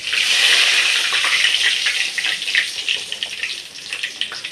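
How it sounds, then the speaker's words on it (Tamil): Fresh curry leaves drop into hot oil with popped mustard seeds and asafoetida while onion thokku is cooked, giving a loud, dense crackling sizzle that settles slightly toward the end. "நம்ம இந்த ஃப்ரெஷ்ஷான கருவேப்பிலை போட்டுடலாங்க"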